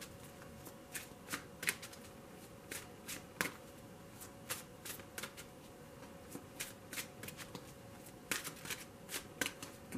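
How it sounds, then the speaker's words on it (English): Tarot cards are shuffled by hand for about ten seconds, giving soft, quick, irregular riffles and flicks close by against a faint, steady background hiss. "Please bear with me as I shuffle."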